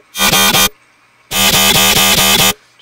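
A screaming bass synth runs through a multiband compressor, with two loud bursts of rapidly pulsing, harsh buzzing tones separated by a short silence.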